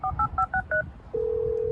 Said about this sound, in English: That's a phone noise,